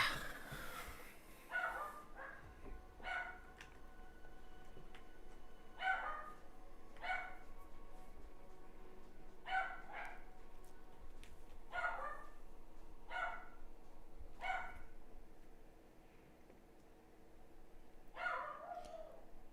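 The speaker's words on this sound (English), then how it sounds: "It's impressive dogs can just go on and on like that." A dog barking over and over in short, sharp bursts, some singles and some quick clusters, spread irregularly across a long stretch; the barks are fairly faint, as if from another room.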